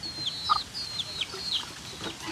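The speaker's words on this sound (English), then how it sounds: "And chicken are loving our kitchen." Chickens cluck and chirp around an outdoor kitchen, a string of short bright calls close by with no talking.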